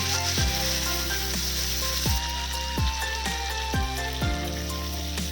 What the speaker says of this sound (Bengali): মশলাটাকে আমি ভালো করে ভেজে নেবো